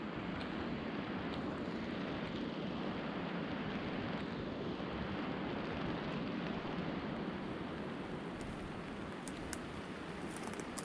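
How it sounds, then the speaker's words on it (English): Rain patters steadily on a bivvy bag while stealth camping in woodland, heard as a continuous soft hiss close by with a few faint ticks. "You could tell the rain's hitting that."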